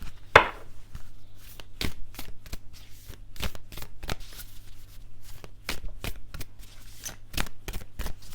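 Tarot cards riffled and shuffled by hand in a quiet room, a sharp snap near the start followed by a steady series of crisp, evenly spaced card flicks and taps.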